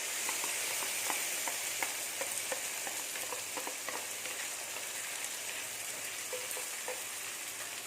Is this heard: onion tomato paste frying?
yes